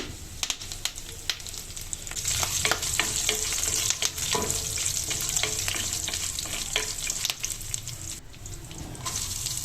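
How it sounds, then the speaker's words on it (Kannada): Crushed garlic and curry leaves fry in a pan for pepper rice, a loud spitting sizzle with many sharp crackles and spatula clatters, building after a quieter start; no one talks. "ಜಜ್ಜಿಟ್ಕೊಂಡಿರ್ತೀವಲ್ಲ ಆ ಬೆಳ್ಳುಳ್ಳಿ ಹಾಕೊಂಡು ಚೆನ್ನಾಗಿ ಫ್ರೈ ಮಾಡ್ಕೋಬೇಕು"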